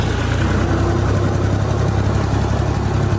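A tractor engine runs at a steady, loud, close drone with a low rumbling throb that holds even and unbroken throughout, with no voices.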